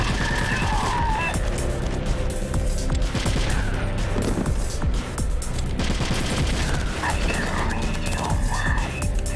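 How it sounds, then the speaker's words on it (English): Dense, continuous gunfire in the Metal Gear Solid: The Twin Snakes video game during the Psycho Mantis boss fight, loud rapid shots filling the whole clip with a few crashes, and some speech underneath. "I just keep shooting like a madman."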